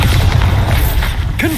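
A Bombarda spell blast goes off in Hogwarts Legacy, a deep, loud booming explosion with a continuous low rumble, followed near the end by a short rising magical whoosh.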